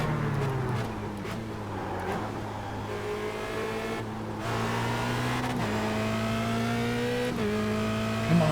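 A Formula Renault race car engine in iRacing at the Nürburgring GP circuit drones loud and close, rising in pitch and dropping at each upshift, with no talking.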